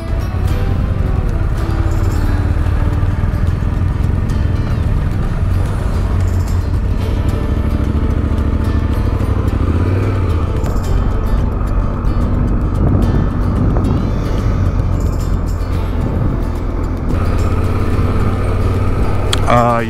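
Motorcycle on a backcountry discovery route in Washington, engine droning loud and steady throughout as it is put in gear and rides away, with wind buffeting and voices talking over it.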